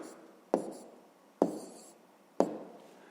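Numbers written by hand on paper during a fifth-grade subtraction exercise, three distinct scratchy pen strokes with sharp starts that fade out, evenly spaced and close, with no talk over them.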